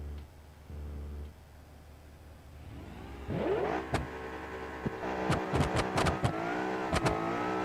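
A pickup truck built for drag racing in a video game idles low, then its engine winds up sharply into a rising rev, followed by a rapid series of gear shifts as it accelerates hard and loud.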